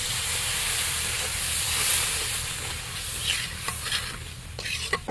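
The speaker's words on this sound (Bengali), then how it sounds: "এখন দিয়ে দেবো হালকা করে জল" Water is poured onto sizzling fried spice masala in a pan, setting off a loud, steady, hissing sizzle with steam that carries through, and a few faint clinks of a utensil near the end.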